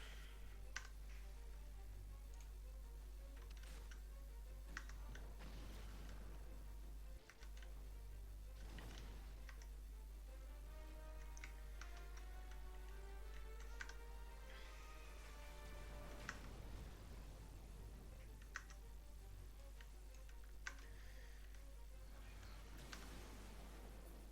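Scattered computer keyboard clicks tap away sporadically during Final Fantasy XIV gameplay, faint and intermittent beneath a steady hum, with a person talking at times.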